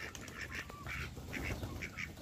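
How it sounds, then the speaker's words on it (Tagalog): Pigeons in a backyard give repeated soft, faint coos and calls in short bursts over a low background murmur, with no speech. "Kalapati."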